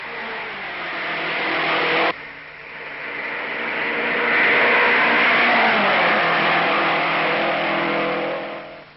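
Pat Flaherty's race car on an Indianapolis 500 qualifying run in 1956, its engine droning loud and steady with a sharp shift about two seconds in, then rising to a sustained high-pitched roar.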